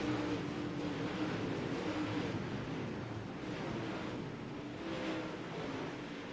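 NCRA dirt modified race cars roaring around a dirt track during a practice race at Lanier, a distant, steady wash of engine noise with a slight swell as cars pass.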